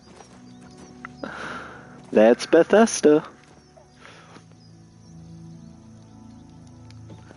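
A horse in the video game Oblivion Remastered whinnies in a short burst of loud harmonic calls near the middle, with a voice speaking briefly over soft background game ambience.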